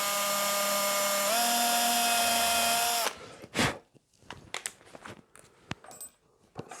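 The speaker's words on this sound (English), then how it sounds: "And then I just need to drill this." A power drill bores a 3mm hole through a Rickenbacker 620/12 guitar pickguard and slightly into the top, whining steadily and loud for about three seconds with one pitch drop, then stopping to leave faint handling clicks and taps.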